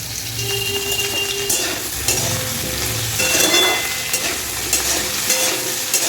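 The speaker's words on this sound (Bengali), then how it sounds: "আলুগুলোকে একটু ভালো করে ভাজবো মশলা দিয়ে কষবো" Large-cut potatoes frying in a pan for a Bengali vegetable dish, with a continuous loud sizzle and intermittent scraping stirs, close up and without talk.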